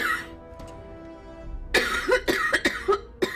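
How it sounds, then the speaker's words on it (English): A person coughs in a rough burst of several hacking coughs close to the microphone, following a few quiet seconds with faint game sounds in the background. "At least I'm not coughing till I throw up yet."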